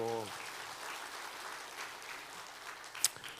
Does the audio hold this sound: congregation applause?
yes